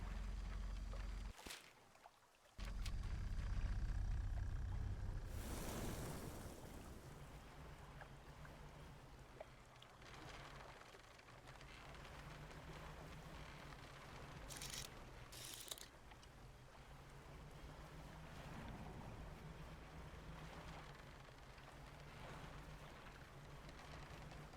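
A small fishing boat chugs across the water in the fishing game Dredge, its steady low engine hum running alone for the length of the clip with faint mechanical ratcheting and creaks over it. Near the start there is a brief louder burst of splashing.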